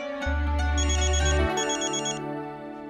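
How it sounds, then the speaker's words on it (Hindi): A telephone rings with a bright electronic ringtone, loud and close, repeating in a steady melodic pattern with a low hum beneath it. "उसी का फोन आ गया।"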